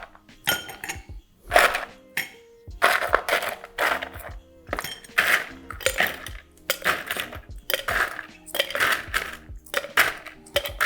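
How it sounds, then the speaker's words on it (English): Ice cubes clatter one after another into a cocktail glass while a drink is prepared, a series of sharp, loud clinks and rattles in a fairly regular rhythm throughout. "Let's put some ice in here."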